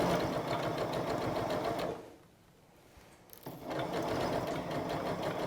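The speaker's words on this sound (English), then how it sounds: "Then you can start sewing right from the top." Sewing machine stitching a zip: a fast, even mechanical whirr runs steadily, cuts out for about a second, then resumes at the same pace, close and clear with no talk.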